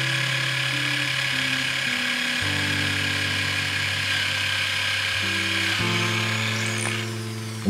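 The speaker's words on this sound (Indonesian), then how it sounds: "melakukan bornya." An electric drill bores at an angle into a coconut shell while a thin pipe is being made, giving a steady, close whine whose pitch steps up and down as it bites, with no talking.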